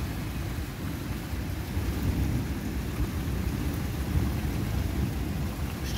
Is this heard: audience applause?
no